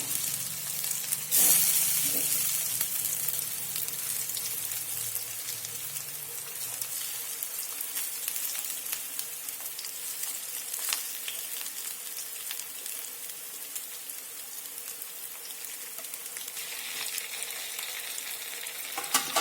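A crispy cabbage snack frying in a little oil over a low flame, producing a steady, dense sizzle and crackle that lasts throughout with no voices.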